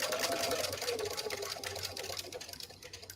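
A sewing machine stitching across a quilt block join, a steady close mechanical whir of rapid stitching that runs throughout and gradually fades.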